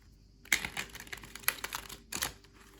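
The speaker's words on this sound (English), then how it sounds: "too thick maybe to shuffle, to riffle shuffle, but let's try again, maybe it will give a bit" A thick painted tarot deck is riffle shuffled, producing quick rattling flurries of card clicks in two or three bursts, close and fairly quiet with no talk.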